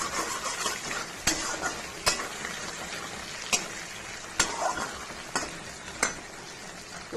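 Garlic sizzles in hot oil with green chilies and nigella seeds, a constant crackling hiss broken by sharp, scattered scrapes and taps of a spatula against the pan.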